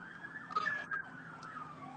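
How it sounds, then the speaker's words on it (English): Emergency vehicle sirens wail faintly outside, a thin, wavering tone heard at a distance with soft background noise. "Sirens though."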